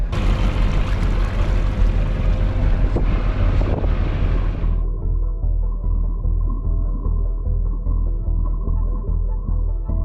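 Boat engine pulling hard astern at 1800 RPM to set an anchor, a steady loud low rumble with rhythmic pulsing throughout, wind noise over the microphone dropping away partway through.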